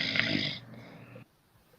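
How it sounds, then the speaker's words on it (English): A person snores in one short, loud rasping breath during an online talk show, then trails off into quiet. "Who's snoring?"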